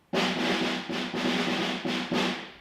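A snare drum is struck five times with the snares engaged, each hit a bright, buzzing rattle that rings briefly, close and clear.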